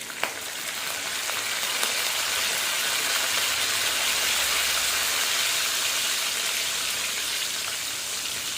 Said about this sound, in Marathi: परतून घ्या चांगले. लसणाने चव छान येते भाजीला.